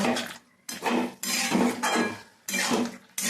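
A spoon scrapes and clanks inside a pot as curry is stirred and sautéed with hot water, in several loud, close bursts separated by short pauses, with no talking.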